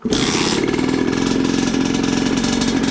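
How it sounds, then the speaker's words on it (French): An AM6 motorcycle engine running after a carburetor change, starting with a sharp burst and then settling into a steady, loud, buzzy idle, close up. "votre moto devrait démarrer du premier coup"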